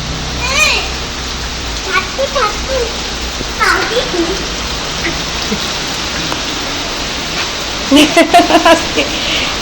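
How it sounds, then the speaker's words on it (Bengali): Heavy rain pours outside in a steady, loud hiss that fills the whole stretch, with children's voices and chatter breaking through now and then. "প্রচুর পরিমাণে বৃষ্টি হচ্ছে, মানে যেটা বলা যায় বাহিরে"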